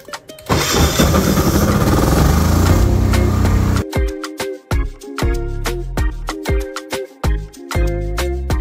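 Engine of a PK10000STRA generator starting up via its starter switch, a sustained loud mechanical roar for several seconds, then cutting to a choppier run with repeated surges and brief drops.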